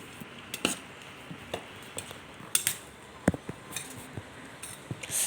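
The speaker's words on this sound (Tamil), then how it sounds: "இன்னும் நல்லா மிக்ஸ் பண்ணணும்" Mango pieces tossed with chilli and salt in a bowl, heard as scattered soft clinks and scraping taps of a utensil against the dish, fairly quiet and close, with no voices.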